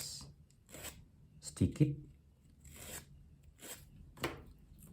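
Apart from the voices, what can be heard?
sanding a part of a rubber-powered model airplane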